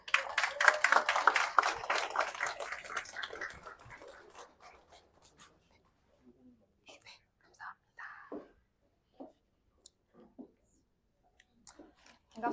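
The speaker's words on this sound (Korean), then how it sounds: "큰 박수로 맞이해 주세요." Audience at a Korean business kickoff roadshow applauding to welcome a speaker, dense clapping at first that thins out and fades within a few seconds, leaving scattered claps and soft room noise.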